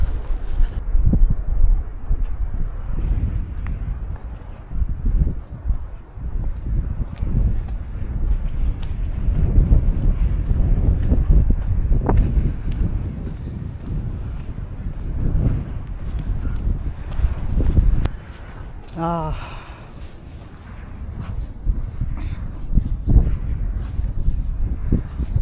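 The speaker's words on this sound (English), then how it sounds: "It's really windy today." Strong gusting wind buffets the microphone with low rumbling bursts that rise and fall, with a faint brief whine partway through.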